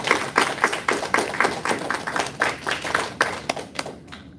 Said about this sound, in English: Folks, let's give a round of applause for Dr.